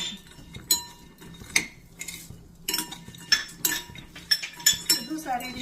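A spoon stirs grated coconut and dates roasting in ghee over a low flame for sugar-free ladoos. The metal utensil clinks and scrapes against the pan in uneven bursts, close up.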